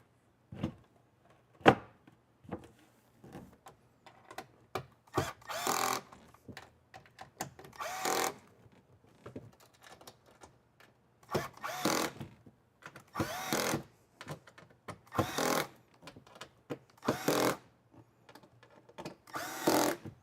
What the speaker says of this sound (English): that's the torque setting on my drill.